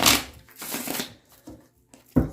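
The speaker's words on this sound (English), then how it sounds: "I'm just going to shuffle these more" Close, crisp riffles of a deck of cards being shuffled in a few quick bursts separated by short pauses.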